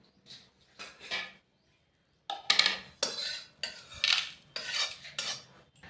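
Whole cardamom, small cinnamon sticks, cloves and shahi jeera are dry-roasted in a dry kadai, then poured out, making close, intermittent bursts of rattling and scraping as the spices are stirred and tipped from the pan.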